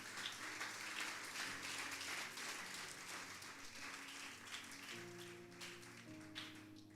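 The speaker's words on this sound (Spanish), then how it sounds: "Bríndele un fuerte aplauso al Señor." A church congregation applauds during a Spanish-language sermon, quiet and fairly distant clapping under sustained organ or keyboard chords that shift pitch every second or so.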